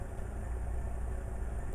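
A Powerstroke diesel truck engine idles in the BeamNG.drive game, a steady low rumble holding an even level throughout without voices.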